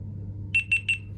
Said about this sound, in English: it is beeping